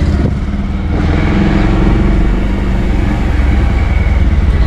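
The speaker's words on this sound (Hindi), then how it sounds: "तो दोस्तों, इंजन का साउंड काफ़ी स्मूथ दिख रहा है मुझे अभी पहले से" A close, loud 2023 Bajaj Pulsar 150 motorcycle engine runs steadily with a deep rumble, rising slightly early on then holding an even drone; no one speaks.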